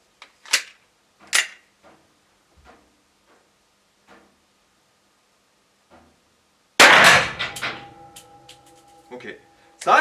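Sharp, loud reports from a Glock 17 blank pistol at a shooting range: several isolated cracks spaced apart, then a very loud blast with ringing decay, and a person talks between the shots.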